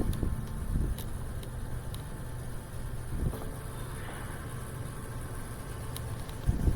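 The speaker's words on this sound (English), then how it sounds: "I think my computer's making a buzzing sound." A failing computer fan gives off a faint, steady electrical buzz with a thin whine, droning continuously at low level in a quiet room with no talking.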